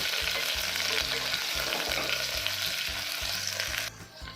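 Potato pieces frying in a pan for horse gram sambar, with a steady loud sizzle and rhythmic stirring scrapes throughout, the sizzle dropping away near the end.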